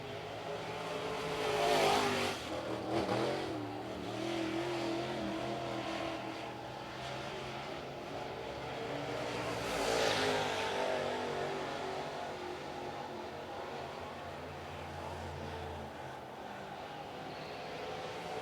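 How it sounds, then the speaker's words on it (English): A late model race car on a qualifying lap at Cherokee Speedway, a dirt oval: a steady engine drone with two swelling passes as the car comes around, moderately distant over track ambience, with no voices. "Here comes John Price, going to cross the stripe."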